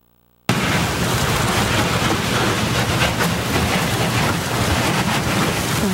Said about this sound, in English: That is the sound of the Coast Guard cutter Thunder Bay on the Hudson River cutting through the ice